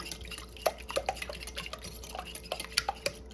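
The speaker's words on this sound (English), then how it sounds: "Okay, I'm gonna beat the eggs up a little bit." Three eggs beaten with a utensil in a bowl, a quick run of light clinks and taps against the sides, close and fairly quiet, with no talking.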